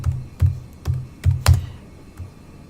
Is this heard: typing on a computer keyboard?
yes